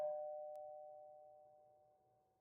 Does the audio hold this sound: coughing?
no